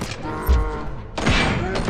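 Gunfire in a first-person shooter set to single fire, sharp thumping shots with a heavy impact burst partway through, mixed with game effects at moderate loudness.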